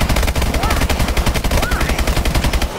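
Rapid, continuous automatic gunfire in Call of Duty: Advanced Warfare Exo Zombies, loud and dense, with a player's voice faintly under the shots.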